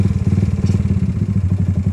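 Stock-idle motorcycle engine running steadily and close, with a fast, even pulsing putter and a slight clatter, and no voices over it.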